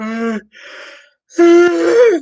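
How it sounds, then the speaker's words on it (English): A person yawns loudly and close up, with a breathy inhale, a brief pause, then a long drawn-out voiced groan that rises at the end. "was a yawn"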